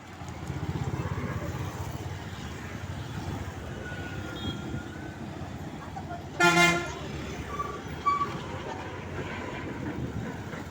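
Busy street traffic hums steadily in the background while one sharp, loud car horn blast cuts through, followed by a fainter short honk, with voices murmuring faintly underneath.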